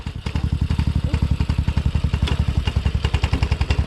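Motorcycle engine under light throttle while a new rider is taught, a steady rapid pulsing beat running close and loud throughout without pause.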